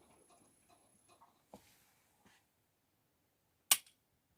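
A single sharp gunshot from an Özkursan Lagant safe-action pistol rings out at a shooting range after a few faint scattered sounds, sounding distant, crisp and brief in quiet surroundings.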